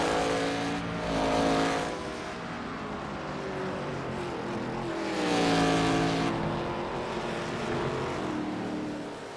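ARCA stock race cars roar around the Mid-Ohio road course, engines rising and falling as cars pass and shift, with two louder swells as cars go by nearby.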